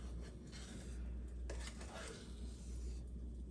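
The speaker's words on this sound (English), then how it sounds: "As the dumplings are frying," Dumplings fry in a pot, a steady close sizzle running throughout with a few brief scraping stirs in the middle; no one speaks.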